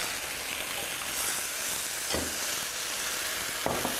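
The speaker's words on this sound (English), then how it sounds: "just add that slowly to the pan. Sizzling away." Meatballs and tomatoes sizzle and crackle steadily in a hot pan, a constant hiss with a few brief louder pops, no talking.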